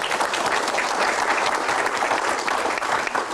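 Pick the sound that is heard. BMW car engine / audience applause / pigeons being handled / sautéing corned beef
audience applause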